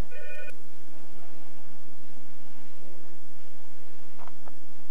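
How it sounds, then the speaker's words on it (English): A home telephone ringing in the early 1990s: a short bright ring burst at the start and another brief ring near the end, loud and close over a quiet room. "phone's ringing."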